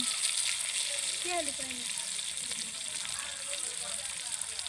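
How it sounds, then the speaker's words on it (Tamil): Pomfret fish fries in oil with a constant low sizzling hiss, moderately quiet and steady, while a brief murmur of sound rises and fades partway through. "மீன் சூப்பராக ஃப்ரை ஆகிடுச்சு"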